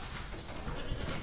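Goats in the first pen on a goat farm bleat faintly within a dense, noisy background that stays steady for the whole short stretch.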